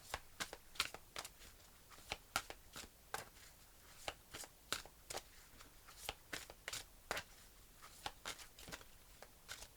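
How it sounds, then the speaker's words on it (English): A deck of tarot cards is shuffled and cards are drawn for an Aquarius reading. Quiet, close papery riffles and snaps repeat in a steady series of short bursts, with no talking. "I'm going to pull you a fortune card."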